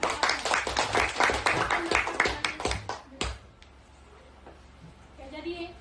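Classroom audience applauding a student group after their presentation during a teacher training session, dense hand clapping for about three seconds that then stops abruptly, leaving quiet room noise.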